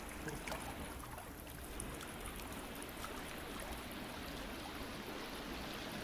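Flowing water in the VR game The Forest makes a faint, continuous rushing and trickling, like a stream, steady throughout with no voices.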